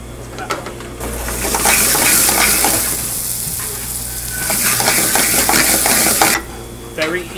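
Food toasting in a hot pan while a butternut squash risotto is prepared gives a loud, steady sizzle with bursts of stirring, and the frying fades briefly near the end.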